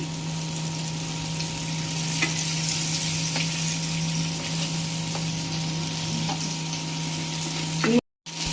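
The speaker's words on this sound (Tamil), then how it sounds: "இப்போ நம்ம மீனை ஒரு ஆஃப் பாயிலில் தான் ஃப்ரை பண்ண போகிறோம்." Fish frying in oil in a pan for a South Indian fish curry, with a steady loud crackling sizzle that runs throughout, a few faint taps against the pan, and a brief cut near the end.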